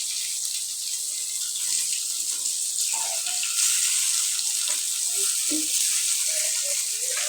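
Eggplant fritters (begun bora) frying in oil make a loud, continuous, close-up sizzling hiss with scattered small pops throughout.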